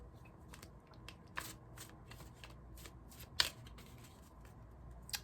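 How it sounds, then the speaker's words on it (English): Tarot cards are shuffled quietly and up close, a run of soft riffling and papery flicks with one sharper snap near the middle, in an otherwise hushed room. "I saw the Nine of Wands on the bottom right before I started shuffling again."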